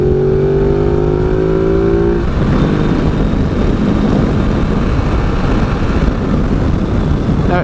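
A 2017 Ducati Multistrada 950 motorcycle accelerates hard while overtaking, its engine note climbing in rising sweeps, then giving way to a loud, steady roar of engine and wind rush.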